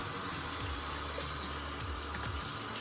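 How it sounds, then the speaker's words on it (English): Hot water swishes and sloshes inside a container as it is rinsed out to catch the last residue, a steady close watery wash with faint gurgles and no talk. "Use some hot water and swish around in there to get the last bit of the residue out and put in the pot"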